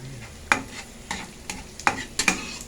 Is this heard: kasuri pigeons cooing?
no